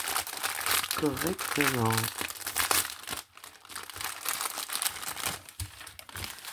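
Plastic packet of cross-stitch embroidery threads being torn open and crinkled, steady crackling handling noise with someone speaking over it throughout.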